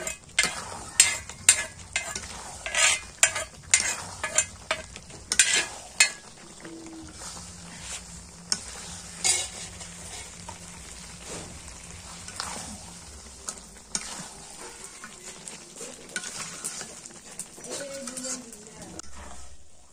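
Beef kala bhuna with mustard oil, ginger, garlic and chili frying in a pot on a clay stove. A spoon clatters and stirs in sharp bursts over a steady sizzle, and people talk at times.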